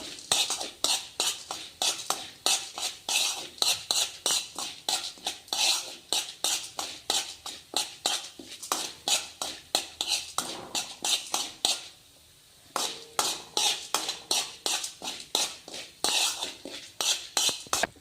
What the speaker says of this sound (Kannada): ಕಾಳುಮೆಣಸು ಜೀರಿಗೆ ಇವು ಫ್ರೈ ತಕ್ಷಣ ಉರಿ ಲೋ ಫ್ಲೇಮ್ನಲ್ಲಿ ಇಟ್ಕೊಳ್ಳಿ